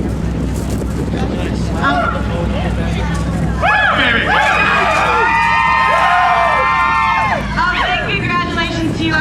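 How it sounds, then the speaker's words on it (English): A big crowd cheers at a Crandon off-road truck race, a loud, steady roar of voices with whistles and horn-like calls rising through the middle and shouts layered on top. "You have a big crowd out here cheering you on."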